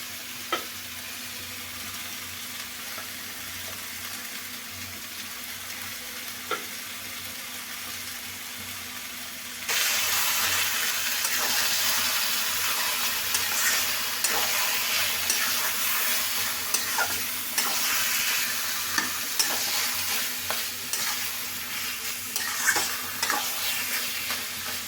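Shrimp with taro leaves and ash gourd stirred and frying in a pan, a steady sizzle with scraping stir strokes that grows noticeably louder and brighter about ten seconds in, with no talking.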